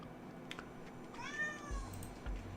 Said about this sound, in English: Got my cat over here. Noisy as always.